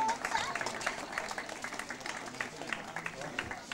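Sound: applause for race finishers at a prize ceremony

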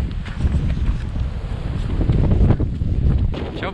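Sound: wind blowing on a mountain

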